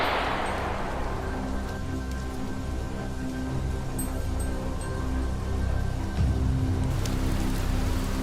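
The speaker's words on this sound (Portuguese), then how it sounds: "A chuva continuou a cair com intensidade" Heavy torrential rain pouring steadily onto a farm and a soaked dirt road, a dense, even hiss close by with scattered drips and no voices.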